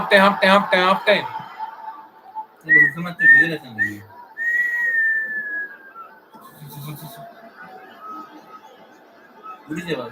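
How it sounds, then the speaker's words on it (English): At half time of an India versus Australia Asian Cup football match, people whistle in short bursts and long sliding tones, mixed with chuckles and chatter. "Everybody whistle, whistle."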